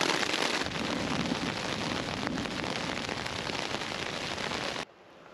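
Rain pours onto a tent during a night thunderstorm, a dense, steady hiss of drops drumming on the fabric at close range, then it abruptly cuts off near the end.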